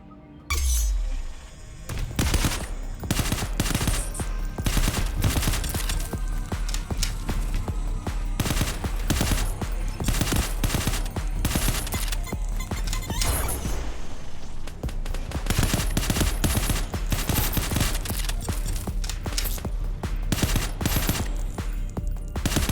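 Dense, sustained automatic gunfire in the cyberpunk roguelike shooter Phantom Proxy, with rapid shots, crashes and breaking glass from start to finish and a voice talking underneath.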